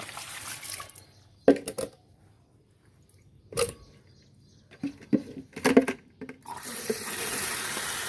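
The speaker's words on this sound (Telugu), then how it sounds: "వాటర్ పోసేసి కడిగేస్తున్నాను అంతా." Water splashes and pours across a muddy home garden area as it is washed down, coming in short bursts with quiet gaps, then a steadier hiss of running water at the end.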